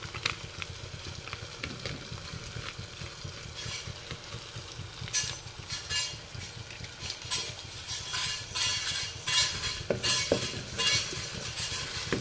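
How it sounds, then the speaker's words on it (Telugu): Masala with ginger garlic paste and coriander powder frying in a pan, a steady close sizzle with scraping stirs and occasional light clinks of a spoon, continuous throughout with no talking. "మసాలా అనేది బాగా వేగాలండి, మసాలా బాగా వేగుతున్నాయి అనమాట"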